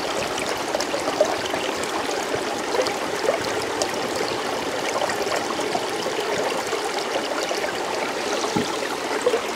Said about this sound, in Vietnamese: Đến đây thì gà nghe cái tiếng nước chảy róc rách